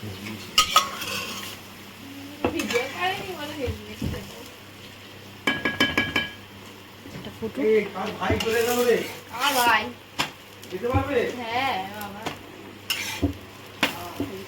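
A paratha fries in oil in a pan, a soft sizzle beneath clinks and scrapes of utensils, while voices talk intermittently over the kitchen sounds.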